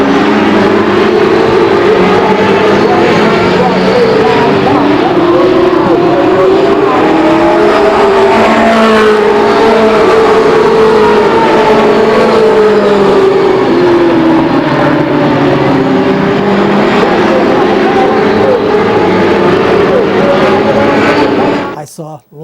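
Late model stock cars race on an oval track, engines roaring loud and continuous with pitch rising and falling as the pack circles for over twenty seconds before cutting off abruptly.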